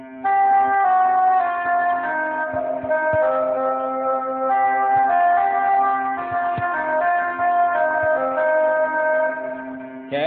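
Sustained tones played together on an instrument, stacking a minor third, fourth, fifth and flat seventh into one held chord. It rings steadily and clearly for about ten seconds with slight changes partway through.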